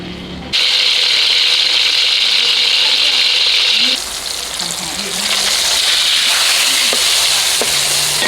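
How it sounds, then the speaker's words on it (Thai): Steady loud sizzling and crackling of fish frying in hot oil over low heat, continuing throughout with occasional faint clinks. "นี่นะครับทอดด้วยไฟอ่อน เดี๋ยวทอดไฟแรงนะครับ เดี๋ยว ปลาเขาจะแตก"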